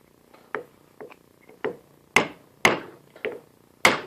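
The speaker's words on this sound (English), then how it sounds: "1969 John Fisher ball peen hammer" A 1969 John Fisher ball peen hammer strikes metal about eight times, sharp ringing taps with short decays, the later blows louder and at a steady pace.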